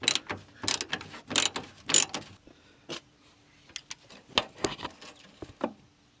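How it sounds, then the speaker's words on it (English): A ratchet loosens a bolt on the battery support of a 2001 GMC Yukon. Close, dry clicking bursts come in several separate runs with short pauses between them, and no one speaks. "Next, we're just going to loosen this bolt that holds the other end of this support."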